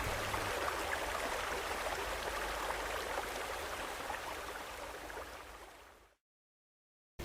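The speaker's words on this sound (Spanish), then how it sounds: "reconocí el sonido del río" A river flows in a continuous, soft rushing wash that slowly fades out before going silent near the end.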